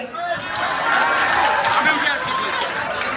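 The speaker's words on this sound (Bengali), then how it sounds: "তাদের উদ্দেশ্যে একটা জোরে করো করতালি" An audience claps and applauds at a BNP founding-anniversary event in Kushtia, a dense, steady burst of clapping that swells quickly and holds throughout.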